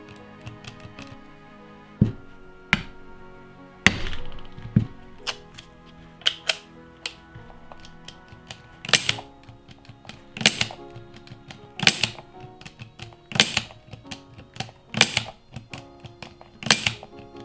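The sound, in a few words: hammer blows tapping revolver yoke into alignment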